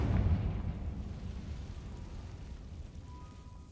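A Confringo fire-spell explosion in a video game: one deep booming blast right at the start, then a long low rumble that slowly fades. No voices.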